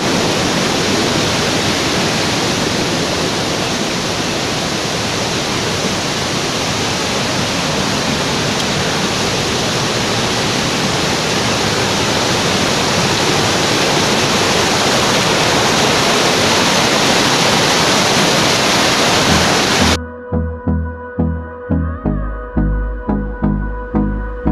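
Batise waterfall in Panchthar pours in a loud, dense, continuous roar of falling water that fills the scene for about twenty seconds before cutting off abruptly, followed by a few brief, separate soft sounds.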